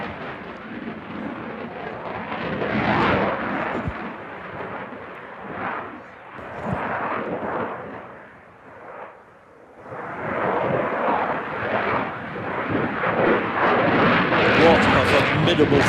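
A jet aircraft performing a flying display at the Farnborough International Airshow roars past as a loud, rumbling broadband wash that surges, dips briefly, then swells again toward the end.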